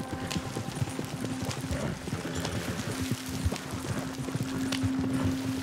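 Horse hooves in the Red Dead Redemption 2 video game clop along steadily at a brisk, even rhythm for several seconds. The sound is moderately close, with a low background hum underneath and no talking.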